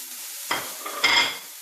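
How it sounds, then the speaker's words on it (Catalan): Spring onion dropped into hot melted lard and oil in a pan, giving two short bursts of sizzling about half a second apart that then fade, close and fairly loud, with no talking. "Aquí ja tindrem la manteca amb l'oli fos, afegim la ceba tendra"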